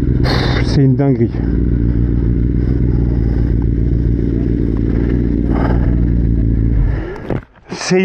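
A 2024 Kawasaki ZX-10R track motorcycle engine rumbles loudly and steadily close by, with brief voices and clatter at the start and end.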